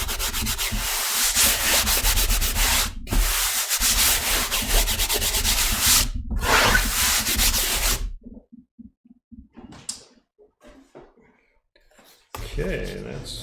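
Dried masking glue being rubbed off a snowy winter watercolor painting on paper, a steady dry scratchy rubbing in long bursts with brief pauses, then quieter scattered scuffs and handling noises near the end.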